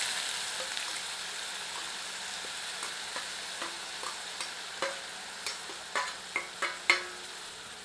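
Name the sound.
grated onion frying with cumin on medium flame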